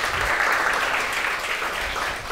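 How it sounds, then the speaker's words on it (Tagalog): A church congregation claps together for Jesus during a Filipino sermon by Rev. Ralph Zander, a full, sustained burst of many hands clapping that swells early and holds steady. "palakpak para kay Jesus"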